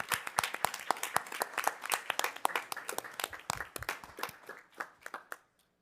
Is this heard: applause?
yes